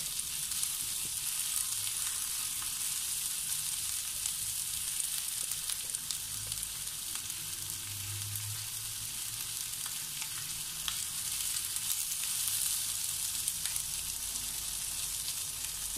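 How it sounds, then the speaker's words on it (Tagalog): Green chili sautéing in a pan with red bell pepper, a steady bright sizzle and crackle running unbroken throughout, close and fairly loud, with faint low stirring thumps and no talking. "gisahin lamang po natin ito ng 1 to 2 minutes"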